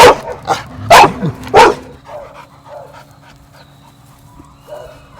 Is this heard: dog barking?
yes